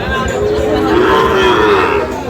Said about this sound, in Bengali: এখানে বেশ কিছু গরু রয়েছে